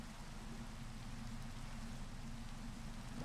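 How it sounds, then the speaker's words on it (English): Rain falls steadily in a video game, a dense, even hiss of rainfall with a low rumbling undertone, constant and moderately quiet throughout. "What's with the rain?"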